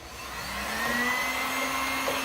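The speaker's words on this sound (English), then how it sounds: "So now I want to plug the heat gun machine." A heat gun plugged in through an energy saver device runs with a steady blowing whir and a faint electrical hum, close and constant with no talk.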